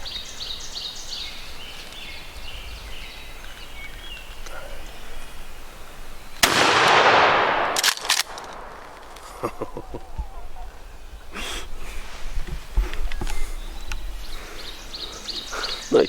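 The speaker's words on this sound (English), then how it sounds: "Nice shot, Ben." A single loud shotgun blast breaks the quiet of a spring turkey hunt outdoors, followed by its echo and then a few short bursts of movement and voices afterward.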